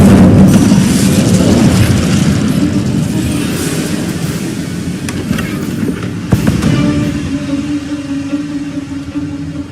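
Incendio fire spell cast in the Hogwarts Legacy video game: a loud, sustained roaring burst of flame with low rumble, trailing off into a crackling tail with a sharp pop near the end.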